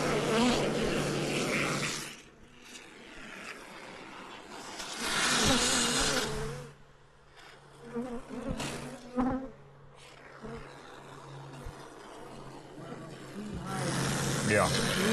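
Killer bees swarm around a hive, making a dense, loud buzzing drone that swells and dips. People talk over the buzzing throughout.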